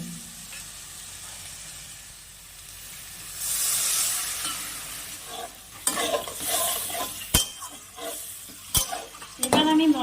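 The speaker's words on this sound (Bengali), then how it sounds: "এবার আমি মশলাটাকে ভালো করে কষিয়ে নেব" Spice paste with chilli powder and a splash of water is stir-fried in a pan for a fish and potato curry, quiet sizzling at first, then louder, irregular scraping strokes of a spatula against the pan.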